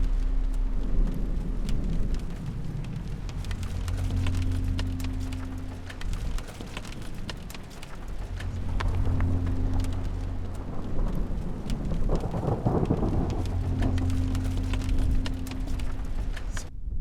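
Steady rain pours during a nearly stationary supercell storm near Kit Carson, Colorado, with low rumbling thunder rolling in repeatedly underneath, the whole scene fairly quiet and distant.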